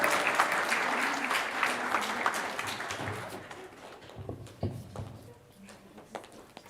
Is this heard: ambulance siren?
no